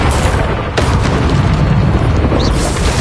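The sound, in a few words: Confringo spell explosion in Hogwarts Legacy video game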